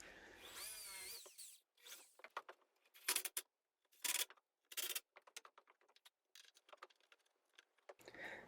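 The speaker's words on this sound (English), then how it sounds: "I use the faceplate of the vise as my guide for pilot drilling the screws that hold it onto that jaw" Short bursts of a power drill pilot-drilling screw holes through a Veritas face vise faceplate into a workbench jaw, several quick spins with gaps of handling and clicks between them, close and moderately loud.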